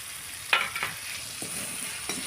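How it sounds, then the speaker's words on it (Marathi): Tomatoes fry in oil with onion and asafoetida in a pan for a Marathi brinjal bhaji. A soft, constant sizzle sits under a few sharp scraping stirs of a spoon, with no talking. "आता हे टमाटर आहे ते तेलामध्ये व्यवस्थित फ्राय करून घ्यायचे."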